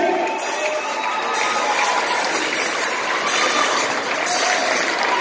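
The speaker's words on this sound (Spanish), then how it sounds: "Un fuerte aplauso para estos dos monstruos" An audience at a rock concert cheers and applauds loudly, a dense continuous wash of clapping and shouting from a large crowd, steady throughout with no talk on top.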